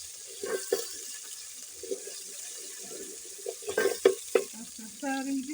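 Onions dropped into hot oil in a pot for village rice pottage, with soft intermittent sizzling, splutters and clinks of stirring, fairly quiet and close, with no talk.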